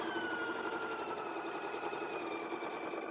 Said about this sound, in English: I'm going to sew straight down